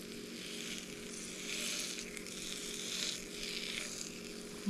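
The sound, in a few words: batter sizzling and cooking in a cast iron pan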